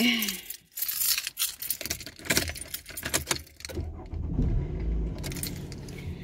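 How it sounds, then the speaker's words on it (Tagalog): Car keys jangle and clink close to the microphone in rapid metallic bursts, with a brief rustle and low rumbling handling noise as they are picked up. "Susi."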